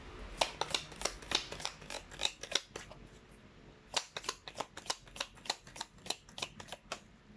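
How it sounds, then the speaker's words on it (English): Tarot cards shuffled and pulled from a deck, a string of crisp close riffling snaps and flicks in quick uneven bursts with a brief pause midway and no talk. "Let me just pull a few more cards."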